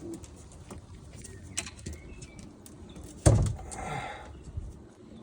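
Homing pigeons coo softly in a loft, several low throaty calls scattered over a quiet background, with a sudden louder bump or door sound partway through.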